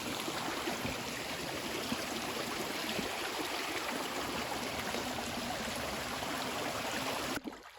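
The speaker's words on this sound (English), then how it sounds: "we couldn't find access to the pond, but we found a stream." An outdoor stream rushes and splashes in a steady, dense wash of moving water close by, continuous throughout and cutting off abruptly at the end.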